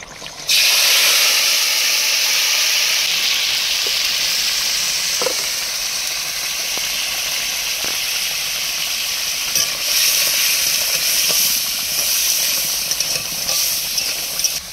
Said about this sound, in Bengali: এপাশে কড়াইতে তেল দিয়ে দিয়েছি, তেল গরম হয়ে গেছে। এবার কাঁকড়াগুলো ভেজে নেব।